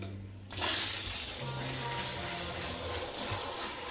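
Running tap water rinses an ultra-thin skin hair system, starting abruptly after a short pause and then flowing as a steady, close, full splash with no talking.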